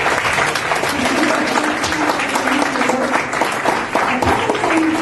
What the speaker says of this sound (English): Let's give our committee chairs a round of applause.